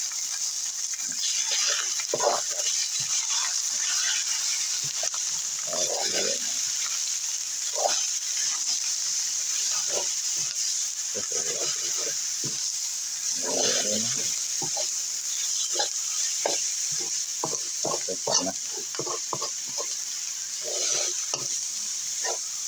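Chopped frog meat, skin included, stir-fried in a pan for Thai basil frog, with a constant loud sizzle and repeated scraping and clacking of the spatula tossing the meat.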